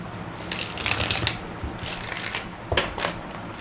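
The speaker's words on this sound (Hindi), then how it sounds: "एक और शफल कर लेते हैं।" Tarot cards being shuffled by hand, a series of soft riffling, flapping bursts at close range, quiet and without talk.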